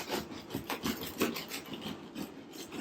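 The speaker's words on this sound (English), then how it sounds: "So we're gonna take this loaf. Sounds great. It looks great. We're gonna cut into it." A knife saws through a crusty sourdough loaf with a soft rasping, crunchy scrape in repeated back-and-forth strokes. The strokes are close and fairly quiet, with no talking.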